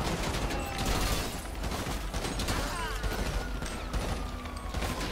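Silenced .50 caliber gunfire rattles in GTA 5, a dense run of muffled shots blended into a continuous noisy wash of game sound, with a voice faintly present underneath.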